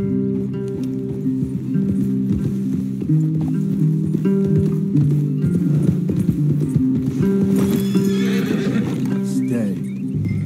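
Horses whinnying and neighing with hoof clip-clops in the Red Dead Redemption 2 western video game, layered over a droning game music score, steady and close throughout.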